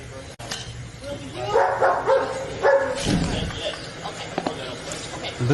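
A neighbor's dog barks repeatedly in a residential dispute recording, police having once been called about the noise. The sharp, mid-distance barks and yips come in bursts over background murmur, with a brief whimper-like sound near the end.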